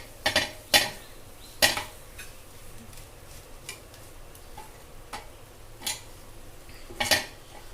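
A spoon scraping and clinking in a pan while chana dal pitla mixture is stirred and crumbled, sharp irregular taps spaced a second or so apart over a quiet background.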